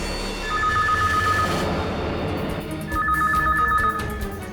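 A telephone rings indoors in two trilling bursts separated by a short pause, fairly clear and close, over a low rumbling background.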